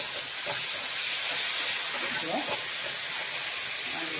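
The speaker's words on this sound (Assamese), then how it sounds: "ইয়াত মই ধুনীয়াকৈ ভাজি লওঁ" Onions and spice paste fry in a pan, giving a loud, steady sizzling hiss that runs without pause, with faint low clatter beneath.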